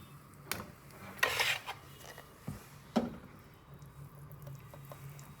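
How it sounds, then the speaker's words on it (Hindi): A spoon scrapes and stirs green paste into white sauce in a wok, producing a few soft rasping strokes and light metallic clinks, quiet and close. "वाइट सॉस के साथ मिक्स कर दूँगी।"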